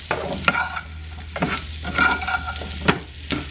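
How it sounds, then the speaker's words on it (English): Brussels sprouts with garlic stirred in a sizzling pan, a loud close frying hiss broken by repeated scraping stirs and clacks of a utensil against the pan, no voices. "we're just going to stir them around for just a few minutes"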